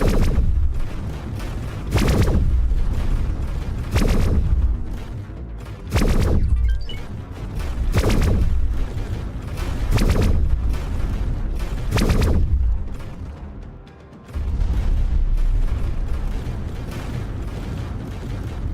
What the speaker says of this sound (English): I think we're just destroying this one because I'm not wasting time